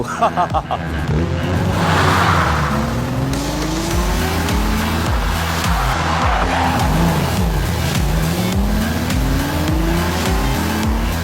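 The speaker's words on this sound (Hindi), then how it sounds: "गाड़ी की आवाज सुनकर तो सिर्फ टॉप रेसर्स ही उसकी प्रॉब्लम पकड़ पाते हैं।" A race car engine drives steadily and loud for the whole stretch, its revs repeatedly climbing and dropping through gear changes, up close with no talking heard.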